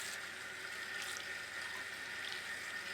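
Kitchen tap running steadily for hand washing, a constant close hiss of water into a sink with slight splashing variations and no voices.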